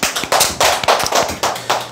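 Audience applause breaking out in a lecture hall, with several dense bursts of clapping that swell and fade in quick succession, loud and close.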